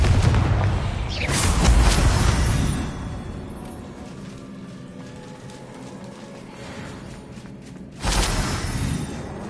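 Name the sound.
Confringo blasting spell explosion, video game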